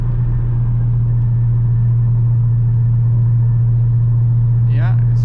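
A car engine hums steadily in sixth gear at 1800 RPM, a loud, constant low drone with road rumble inside the cabin, and a voice speaks briefly near the end.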